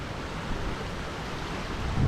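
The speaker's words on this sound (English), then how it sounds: "We got beautiful cascading waterfall, and of course the many waterfalls over there." Steady broadband rush of a cascading waterfall on Kauai, Hawaii, a continuous roaring wash of water with wind noise and no voices.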